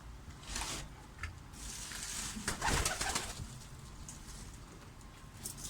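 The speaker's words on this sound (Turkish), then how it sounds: "Kumrular da geldi buraya." Turtle doves' cooing rises over steady outdoor background noise, with a few soft, low calls in a loose rhythm and a brief louder burst midway.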